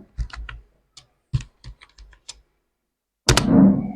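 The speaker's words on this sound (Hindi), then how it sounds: "अब जब हम इसमें कुछ टाइप करेंगे" Someone types on a computer keyboard in MS Word, giving a few short bursts of close key clicks separated by pauses, followed by a louder thump and rustle at the end.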